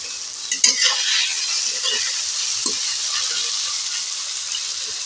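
Tomatoes and green chillies frying in oil in a pan, with a continuous close sizzle, stirring scrapes and a few sharp clatters early on, and no talk.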